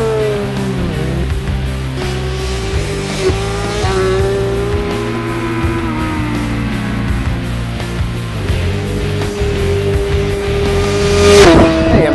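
A BMW S1000 RR race motorcycle lapping Roebling Road Raceway near Savannah, Georgia, its engine holding a loud, steady high-revving drone with shifting pitch throughout, close and continuous, with no talking.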